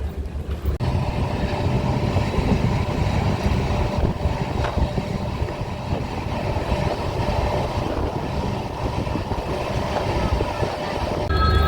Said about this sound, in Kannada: ಇಲ್ಲಿ ನೋಡ್ರಿ ಇದ ಟ್ರೈನೇ ಈಗ ಟ್ರೈನ್ ಹತ್ತಿ ಹೋಗ್ತೀವ್ರಿ